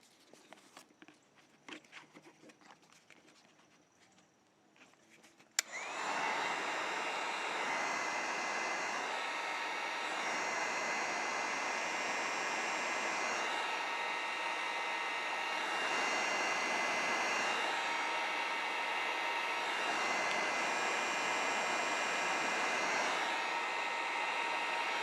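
A heat gun is used on a Glock pistol frame. It clicks on after a few seconds of quiet handling noise, then roars with a loud, steady airflow and motor whine. The tone shifts slightly as it is moved, and nobody speaks.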